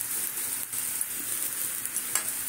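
Asafoetida dropped into hot oil gives a steady, even hiss of frying that runs through the short stretch with no voices.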